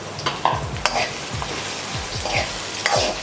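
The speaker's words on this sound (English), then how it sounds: "And then we're gonna add our finely chopped onions." Finely chopped onions sizzle in hot oil with spices in a kadai, a steady frying hiss broken by repeated scraping stirs of a spoon against the pan.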